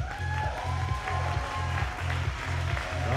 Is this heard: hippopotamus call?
no